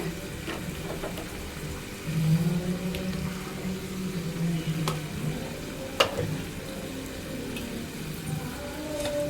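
Masala paste frying on low heat for chicken biryani makes a soft continuous sizzle, with a spoon scraping and stirring now and then, heard close with no one speaking.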